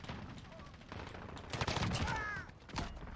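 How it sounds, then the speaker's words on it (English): Rapid bursts of gunfire in Call of Duty: Modern Warfare crackle in quick succession, loud and sharp, with a short metallic tone and a lull between volleys. "I would have to say these are the best gun sounds I've heard in a shooter game"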